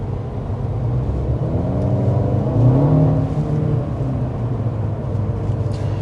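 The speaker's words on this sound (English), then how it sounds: "I accelerated kind of casually up to speed there, and then I punched the accelerator to check how quickly we could get our downshifts" A 2024 Mercedes CLA 250 accelerates hard with a steady engine drone and rising pitch, heard close from inside the cabin, with a brief shift in tone partway through as the transmission downshifts.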